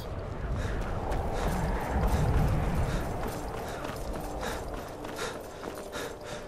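Horse hooves galloping in the video game Skyrim, a steady muffled clip-clop rhythm running throughout at moderate level, with wind-like noise mixed in and someone talking over it.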